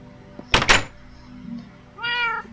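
A cat in a Minecraft Xbox 360 pet shop meows once near the end, clear and close, after two loud wooden thunks and a quiet stretch.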